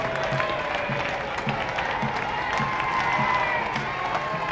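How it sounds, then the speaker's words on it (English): Large crowds cheering and applauding to greet the Queen Mother at the Trooping the Colour parade on the Mall in 1995, a dense continuous roar of clapping and shouts with a commentator speaking over it. "there are cheers from the large crowds to greet the Queen Mother"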